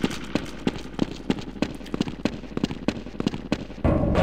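A grenade explosion in the video game Half-Life is set among a run of sharp, rapid gunshot-like cracks, ending in a loud, sustained rumbling blast.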